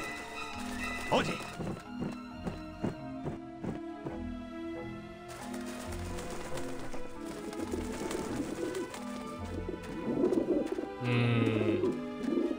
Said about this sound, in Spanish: No me gusta el aspecto de esas palomas.